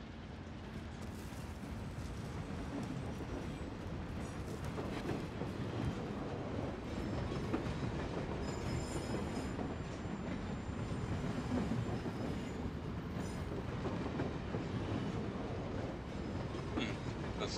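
A train running in the shooter game Call of Duty: Modern Warfare, giving a continuous heavy rumble with rattling wheel clatter and faint metallic squeals, steady and close throughout with no talk.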